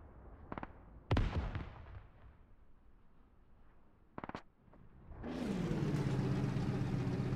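Airstrike in a milsim video game match: a few sharp distant pops and thuds, then a loud rumbling explosion that swells and sustains to the end.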